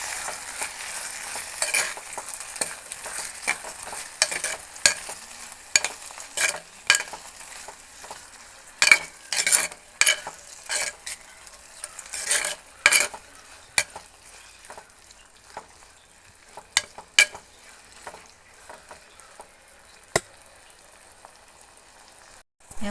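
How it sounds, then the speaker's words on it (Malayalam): Tomatoes frying in a pan with salt and turmeric, stirred with intermittent scraping clinks and soft sizzle; quiet, irregular stirring strokes close by with no talking. "കുറച്ച് മഞ്ഞൾപ്പൊടിയും കൂടി ഇട്ട് ഒന്നുകൂടി ഒന്ന് ഇളക്കിയെടുക്കാം"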